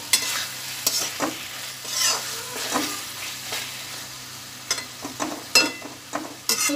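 Spiced potatoes fry in a pan with a continuous sizzle, broken by repeated scraping and clattering strokes as they are stirred close by.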